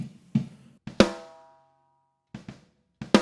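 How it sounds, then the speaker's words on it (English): Six sharp snare drum hits, unprocessed, played alone and close, with one open stroke left ringing into a long, pitched tail before a few more quick strikes. "Snare drum sounds like this"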